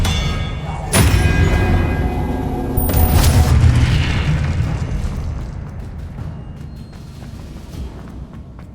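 Expelliarmus disarming spell cast in the Hogwarts Legacy video game, a loud booming burst that hits twice in quick succession, then rumbles and decays slowly.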